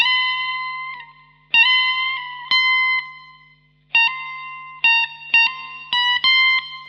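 Clean, sustained electric guitar notes bent and released in a solo, each note ringing with pitch sliding up or down, separated by short gaps, loud and close over a low hum.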